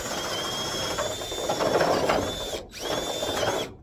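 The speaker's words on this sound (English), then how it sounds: "now we just have to drill this hole" A drill bores a mounting hole for a solar motion light, a steady close whine with a ratcheting grind that pauses briefly once before spinning up again.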